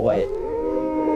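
A small white Arctic wolf gives a single sustained howl that starts on a rising, wavering note and then holds a steady tone for just over a second, loud and close.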